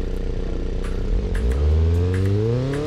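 In a video game, a Fast and Furious car's engine revs up from a low idle into a rising, rumbling roar, close and steady with a few clattering ticks.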